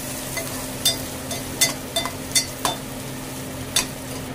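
Garlic added to fried onions in a pan while cooking a Malvani-style tendli (ivy gourd) vegetable dish, with a faint steady sizzle under several sharp clinks of a metal spoon stirring against the pan.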